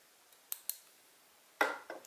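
Small scissors snip the tail and legs of a Skwala dry fly: two quick, faint clicks, then a sharper, louder snip and a softer one, close up in a quiet room.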